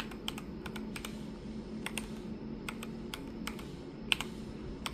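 Irregular keystrokes on a computer keyboard whose keycaps were just cleaned with WD40, alcohol and a soap bath, clicking close and clear in uneven bursts over a steady low room hum.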